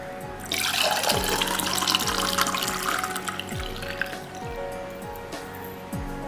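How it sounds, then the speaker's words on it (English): Hot chocolate is poured into a glass, a continuous liquid stream splashing and filling for several seconds, then tapering into gentle drips, with no one speaking. "So now we'll pour our hot chocolate into the glass."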